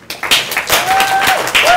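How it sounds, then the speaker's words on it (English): Audience applause at a civic tech conference, saluting the roughly 90 volunteers in pink shirts; steady clapping fills the brief moment, with a few whistles or cheers rising over it. "Could we get a round of applause for all the pink shirt people?"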